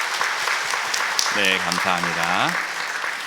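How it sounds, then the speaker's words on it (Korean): A church congregation at a Sunday service claps for a newlywed couple, a continuous even patter of applause running the whole time while someone briefly speaks over it. "우리 잘 살라고 행복하게 살라 박수로 우리 격려했으면 좋겠습니다"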